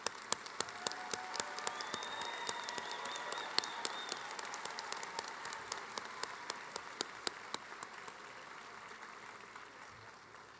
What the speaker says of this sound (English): Give him one more round of applause